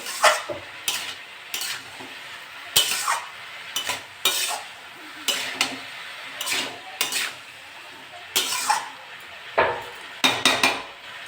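A spatula repeatedly scrapes and clanks against a pan of bottle gourd and potato curry with shrimp. Sharp metallic strikes and scrapes come in irregular bursts over a faint sizzle, close and fairly loud, with no talking.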